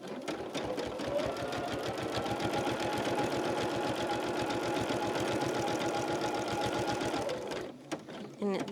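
A sewing machine with a walking foot stitches a quilt in a fast, even run of needle clatter for about seven seconds, then stops with a few handling clicks.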